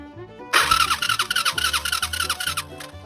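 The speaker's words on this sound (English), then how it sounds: "It's cranking over." Starter motor on a 1986 Honda TRX350 ATV cranking the engine over, a sudden loud whirring churn with a rapid pulsing rhythm for about two seconds, then stopping abruptly, close up and alone.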